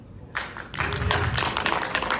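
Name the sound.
audience applause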